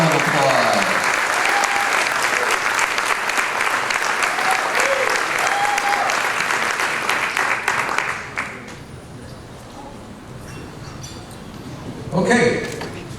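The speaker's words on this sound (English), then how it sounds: "Let's give him a big round of applause" Audience applause at a school essay award ceremony, a full, steady roar of clapping for about eight seconds that then thins out and fades, with a brief swell of sound near the end.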